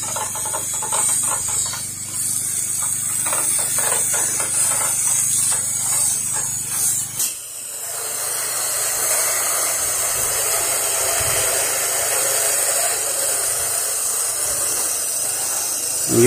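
Pressure washer spraying a house wall during a wash-and-rinse job, a steady broad hissing rush of water and pump drone that continues throughout, briefly shifting character partway through as the spray moves.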